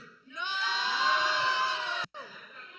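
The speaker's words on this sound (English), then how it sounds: "Loudest cheer wins." Youth team at a church gospel conference cheering loudly in a cheering competition, a sustained burst of shouts and screams for about two seconds that stops abruptly, followed by a faint murmur.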